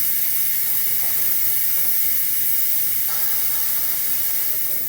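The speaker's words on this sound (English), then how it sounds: "I'm going to hit cancel and let it release the steam." A pressure cooker vents steam after cooking chicken noodle soup, giving a steady, loud continuous hiss that holds throughout without a break.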